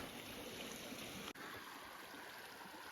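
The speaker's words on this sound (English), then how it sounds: "I think it's just a big side creek." A side creek near the Miette River in Jasper National Park gives a steady, faint, even rush of flowing water with no voices over it.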